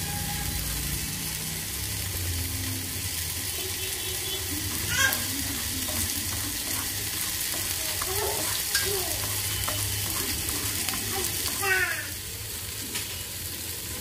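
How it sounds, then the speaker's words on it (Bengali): Moong and split pea lentils fry in desi ghee over a low gas flame, giving a steady, close sizzle and crackle that runs throughout with faint stirring. "ঘিতে মুগ ডাল আর মটর ডাল কি সুন্দর ফুটছে দেখুন"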